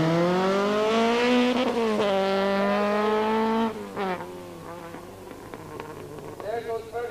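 Rally car from the 1983 Circuit of Ireland Rally passes close by, its engine note climbing loudly through rising harmonics before dropping away, then fading into distant engine noise.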